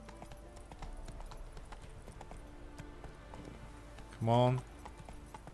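Roach the horse's hooves clip-clop at a steady trot in the Witcher 3 video game, soft repeated thuds running throughout, with a brief spoken voice near the end.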